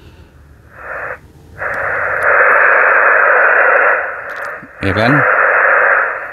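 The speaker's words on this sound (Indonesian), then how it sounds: "Ini speakernya udah bunyi." ICOM IC-7000 mobile transceiver speaker hissing with steady broadband static, switching on and off early then holding loud and continuous, briefly broken by a short voice.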